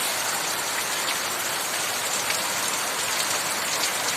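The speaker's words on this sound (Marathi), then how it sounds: "त्याचा हा श्रावणातला बरसणारा पाऊस" Steady monsoon downpour during Shravan, a thick continuous hiss of rain striking surfaces nearby, unbroken and uniform in loudness with no speech.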